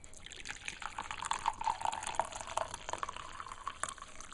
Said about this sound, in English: I'll pour it into a cup.